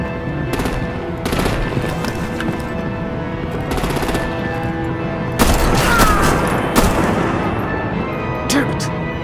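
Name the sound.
artillery and gunfire from the video game Batman: The Enemy Within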